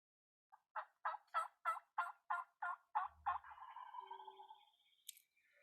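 A wild turkey gobbler lets out a clear series of about ten sharp, rhythmic gobble notes that slide into a drawn-out, fading rattle, with a brief faint call near the end against quiet surroundings.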